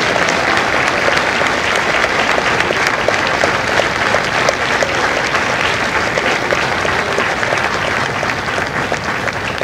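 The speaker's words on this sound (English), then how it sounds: "Ladies and gentlemen, a round of applause for their dedicated service to Corps and country." A large crowd at a Marine Corps recruit graduation ceremony in San Diego applauds Marines in the audience, loud, sustained, even clapping that fills the whole stretch without letting up.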